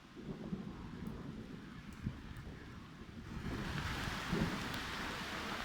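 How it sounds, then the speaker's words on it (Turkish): Rain begins falling in a village, a steady broadband hiss with a little wind that swells louder in the second half, with no voices present. "Evet şu an yağmur başladı köyümüzde muhteşem"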